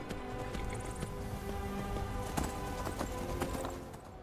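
Hooves clip-clop at a steady galloping rhythm as a horse is ridden across open ground in the video game Skyrim, close and continuous over a low wind bed, no talk.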